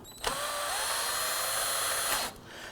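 Power tool driving down the two nuts on a brake master cylinder of a 2008-2011 Ford Focus: a single steady whining run of about two seconds, close and loud, rising slightly in pitch before stopping abruptly.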